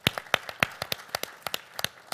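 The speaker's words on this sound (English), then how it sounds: "Can we give a round of applause?" Sparse, close handclaps from a small audience at an infrastructure panel event, about a dozen sharp claps in an uneven rhythm over two seconds, fairly quiet.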